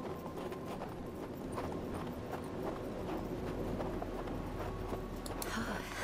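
Horse hooves clip-clop steadily across snowy ground in the video game Hard West 2, a close, continuous rhythm of hoofbeats heard alone.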